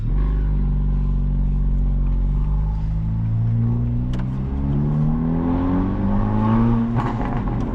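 A 2025 Honda Civic Type R FL5 with a catless downpipe drives off with a loud, raspy exhaust drone, rising in pitch through steady acceleration, then dipping and climbing again, with a few sharp pops near the end.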